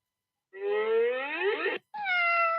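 A cat meows twice up close: a long, rising, drawn-out yowl, then a brief gap and a shorter, steady meow.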